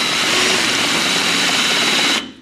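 Electric drill boring a 5/16-inch hole in metal, a steady loud high whine held for about two seconds, then cutting off abruptly.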